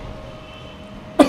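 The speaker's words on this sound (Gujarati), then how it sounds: "બાપુજી ઉધરસ ખાઓ છો." An elderly man gives one short, sharp cough close by at the end, after a quiet indoor pause.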